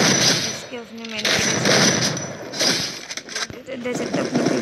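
Bursts of gunfire crack repeatedly during a ranked battle royale shooter match, with rapid shots and impacts mixed under a player's ongoing talk.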